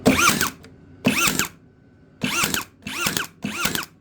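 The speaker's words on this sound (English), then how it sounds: "this one you just hold the trigger down and you just bump it against the table" An 18-gauge brushless brad nailer bump-fired against a table, driving brads into wood: five sharp, loud bursts in a steady rhythm, each a short mechanical clack with brief ringing, close and alone without talk.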